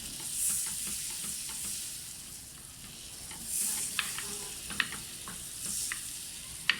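Butter melts and bubbles in a pan over a very low flame, making a faint, steady sizzle with soft, scattered pops and occasional stirring scrapes.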